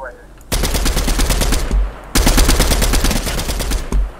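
Rapid automatic gunfire in a video game, two long bursts of loud, close machine-gun fire separated by a brief pause.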